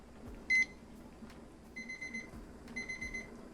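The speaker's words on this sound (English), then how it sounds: "Now it's time to turn on the timer for 15 minutes." A digital kitchen timer is set for a 15-minute countdown during water-bath canning of pineapple jam, giving a short loud beep followed by two quieter trains of rapid electronic beeps.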